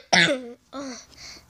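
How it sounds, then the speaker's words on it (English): Harsh coughing and throat clearing in two bursts, a loud first one and a softer second, close and alone, set in a Five Nights at Freddy's roleplay. "Why are you coughing?"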